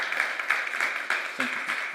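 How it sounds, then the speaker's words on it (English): Audience applause at a COP28 session in the Nordic Pavilion, a dense spread of many hands clapping at moderate distance, with a voice briefly cutting in partway through. "Please give them a round of applause,"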